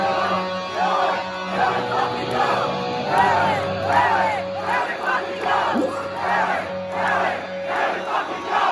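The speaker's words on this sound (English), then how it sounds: "You're gonna see just how loud this crowd can fucking get." A big rock concert crowd at a show in Glasgow yells and bellows in unison, a loud, sustained roar of voices that swells and dips in waves.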